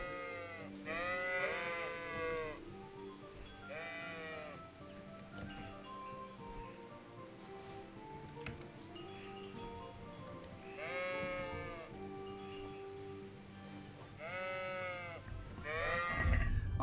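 Several sheep bleat in wavering calls in the video game Kingdom Come: Deliverance, clustered in bursts with pauses between, over a low background hum and faint clinks.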